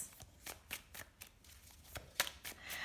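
Tarot cards being shuffled, a string of soft, quick riffling bursts close by in an otherwise quiet room.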